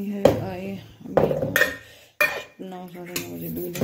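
Pots and utensils are set back in their places in a home kitchen, with several close, ringing metallic clanks and clatters coming in separate bursts.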